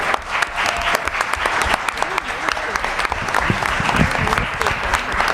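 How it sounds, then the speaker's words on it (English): Audience applause for Dr. Joe Gothard at a high school African American History Academic Challenge event, a dense steady clapping from a large crowd filling the room throughout. "Please give an unbelievable round of applause for Dr. Joe Gothard."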